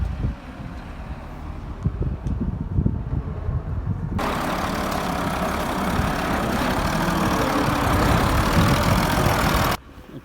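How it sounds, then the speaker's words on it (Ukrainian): A tractor engine idles with a low, steady rumble, then heavy wind noise buffets the microphone loudly before cutting off near the end. "поки трактор працює"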